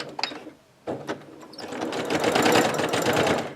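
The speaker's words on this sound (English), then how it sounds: "So I'm going to sew along the line that I drew, and I'm going to do a back stitch at the beginning." A sewing machine stitching along a drawn line on fabric for a box bag corner starts after a few handling clicks and then runs in a steady, close, buzzing whir.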